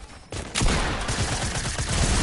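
Gunfire in the video game Fortnite, a sudden loud burst after a quieter start, then continuous dense rapid shots sustained to the end.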